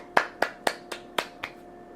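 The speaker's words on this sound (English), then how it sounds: "I'm gonna clap for you." One person clapping on a podcast, six sharp separate claps in an uneven, slowing rhythm, close and fairly loud with no talk over them.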